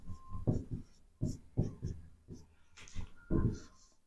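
A chemical equation is being written out as a worked example, giving a series of close, distinct scratching strokes of pen or chalk in short bursts with quiet gaps between them.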